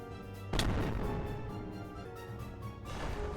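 A red cannon fires in a Minecraft-style game, one sharp booming blast followed by a long rumbling tail and continued low roar with lingering game noise.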